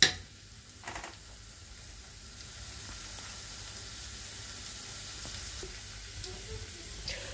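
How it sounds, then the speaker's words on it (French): Ingredients for a homemade bolognese sauce sauté in a pan with a soft, steady sizzle and faint occasional stirring clicks, quiet and continuous with no talk. "Laissez revenir un peu les ingrédients avec au moins 5 minutes"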